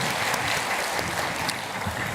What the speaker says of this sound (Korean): 다시 한번 큰 박수로 격려합시다